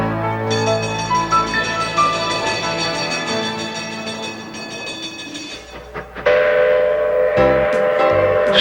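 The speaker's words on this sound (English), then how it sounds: "The last operating steam locomotive waits to welcome our train." Steam locomotive of the Manitou and Pikes Peak cog railway, with loud sustained tonal whistling and a steady mechanical drone; the sound shifts abruptly near the end into a harsher blast.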